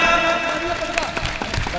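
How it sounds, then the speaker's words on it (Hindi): A crowd applauds to welcome a Samajwadi Party MP from Badaun at a garlanding ceremony, clapping in a loose burst under a tonal public-address hum, with voices mixed in. "जोरदार तालियां।"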